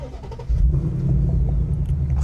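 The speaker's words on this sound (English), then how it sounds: "when you want to start the vehicle up" A 2025 Ford Mustang Dark Horse V8 engine turns over and catches, settling into a loud, deep rumbling idle that holds steady to the end.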